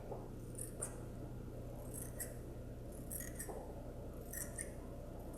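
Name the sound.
scissors trimming tulle fabric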